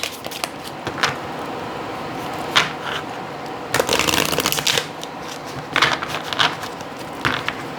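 Oracle cards shuffled by hand, giving repeated crisp riffling bursts and flutters in quick rhythmic runs, close and fairly loud, with no voice over them.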